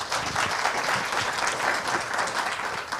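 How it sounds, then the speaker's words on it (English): Steady applause from a seated audience in a television studio greets India's G20 Sherpa, Amitabh Kant, a dense, even wash of many hands clapping that holds for the whole stretch. "Let's have a round of applause."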